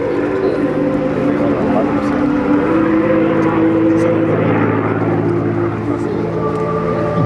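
A P-51 Mustang's piston engine in flight at the 2009 Bourget air show, a loud continuous droning roar with steady harmonic tones that shift slightly in pitch.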